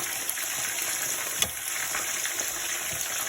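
Horse mackerel fish go into a hot frying pan, setting off a steady, bright sizzle of spitting oil with a few small pops and crackles, close and continuous, no voices.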